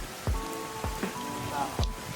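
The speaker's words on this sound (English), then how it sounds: "Today happens to be a rainy day, but that's not going to slow us down." Rain patters down during a rainy day outdoors near a pool deck and driveway, with a few louder drips or taps landing sharply over a soft, steady wash of rainfall.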